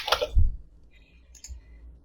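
A few sparse, crisp clicks of keys on a computer keyboard as an IP address is typed for a network port scan, with quiet gaps between keystrokes.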